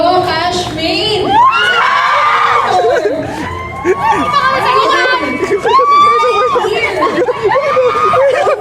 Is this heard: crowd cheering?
yes